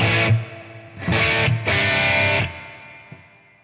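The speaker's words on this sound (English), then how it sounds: "The higher this is, the longer that reverb tail is going to be." Distorted electric guitar through a Helix amp modeler with a long room reverb, three loud chord strums whose sound rings on and slowly fades after the last, with no talking.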